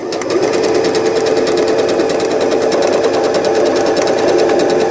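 A sewing machine runs continuously and loud, stitching a three-step zigzag over elastic for a fitted crib sheet, its needle chattering in a fast, steady mechanical rhythm with no talking.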